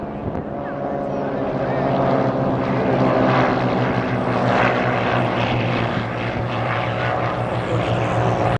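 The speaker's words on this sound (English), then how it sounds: "Right now you're seeing Kevin Coleman doing what we call a rudder turn or a pedal turn. No bank at all, just a flat turn up there" Propeller aircraft performing a flat rudder turn at an air show, a steady droning engine hum held loud and continuous, with a commentator talking over it.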